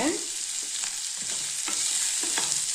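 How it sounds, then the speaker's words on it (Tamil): Onions and tamarind sauté in a pan for groundnut chutney, giving a steady close-up sizzle with a few soft stirring scrapes and no talking. "வெங்காயம் ஓரளவுக்கு வதங்கிடுச்சுங்க இப்போ நம்ம புளியை போட்டுக்கலாங்க"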